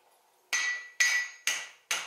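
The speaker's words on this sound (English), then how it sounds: "hammer it all the way down on the hardy" Hot steel struck on the hardy while forging a split cross, four loud ringing hammer blows at a steady rhythm of roughly two per second, each bright metallic strike close and alone.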